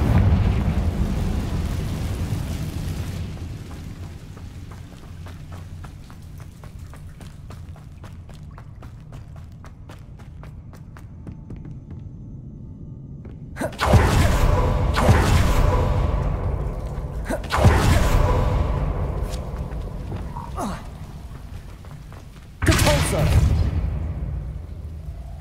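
Confringo explosive spell blasts in Hogwarts Legacy burst loudly three times after a long quiet stretch, each a sudden broadband whooshing explosion with a rumbling decay; a faint voice is heard early on.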